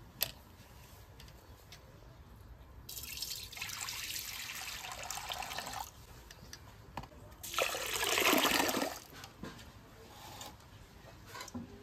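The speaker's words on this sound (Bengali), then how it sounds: "জলটা ফেলে দিই।" Water being poured off washed rice, heard as two gushing pours into a sink, the second louder and fuller, separated by quieter trickling and drips, close by.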